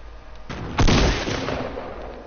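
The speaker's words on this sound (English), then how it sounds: "He's throwing grenades at me." Video game firefight in which a grenade blast booms out after scattered gunshots, leaving a rumbling tail at moderate loudness.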